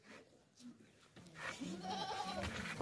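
A heavy goat at a livestock market gives a couple of short bleats, the last one louder and drawn out, with people talking nearby.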